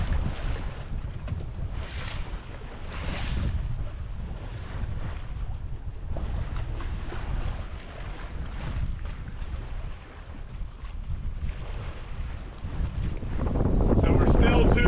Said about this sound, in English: the winds are already starting to pick up, and we're flying along